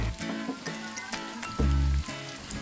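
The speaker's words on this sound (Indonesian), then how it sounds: "Lalu aku goreng juga jengkol yang udah digeprek" Crushed jengkol beans frying in hot oil, giving a soft, continuous sizzle and crackle at low level with a brief louder bump partway through.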